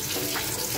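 Running tap water splashes steadily over used bowls being rinsed in a kitchen sink, a continuous close hiss of flowing water with no speech.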